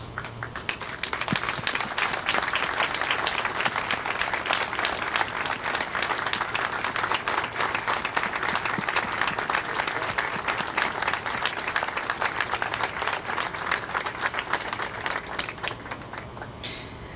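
A loud, dense round of applause for Purple Heart recipients and their families standing at a recognition day ceremony, sustained and even for the full length with no speech over it.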